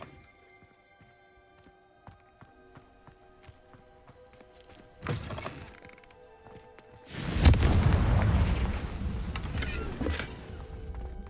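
A Confringo blasting spell detonates in the game Hogwarts Legacy with a sudden loud, deep explosion that rumbles on for several seconds, following a sharper thump and quiet footsteps.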